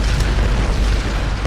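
A deep, sustained booming rumble fills a Tomb Raider game scene as something explodes and caves in, loud and continuous with heavy low-end roar throughout.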